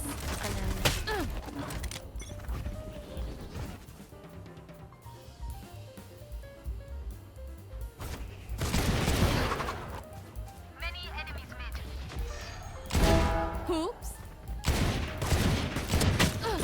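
Bursts of rapid video-game gunfire crackle during a test of a cheap gaming mouse, with several dense volleys separated by quieter stretches and someone talking over parts of it.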